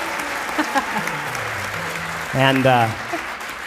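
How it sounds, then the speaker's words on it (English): Applause from an audience for two young dancers at an Acoustic Eidolon show, a steady patter under a voice, with brief cheering and talk swelling near the end. "another big round of applause for our son Zach and his good friend Harrison for their incredible dance moves"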